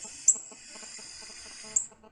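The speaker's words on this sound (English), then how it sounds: "So this one's a little bit more high pitched than the other one was. And that's the flight call." Migrating birds give high-pitched chip flight calls, two sharp, brief notes about a second and a half apart, heard faintly over softer low clucking.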